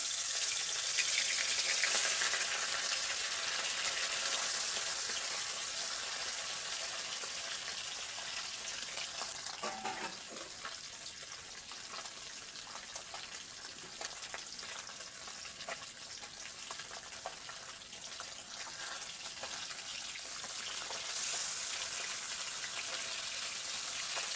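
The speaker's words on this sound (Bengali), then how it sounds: "আমার তেল গরম হয়ে গেছে, এবার মাছগুলো আস্তে দিয়ে দিলাম।" Small parshe fish frying in hot mustard oil in a kadai give a steady, close hiss and crackle that runs continuously, with a few brief spatters standing out, no voices over it.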